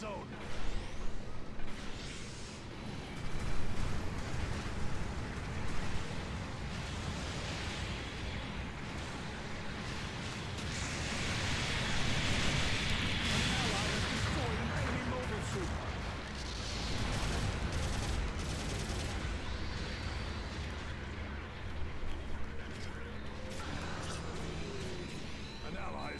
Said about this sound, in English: Supporting fire incoming. Clear out of the hot zone.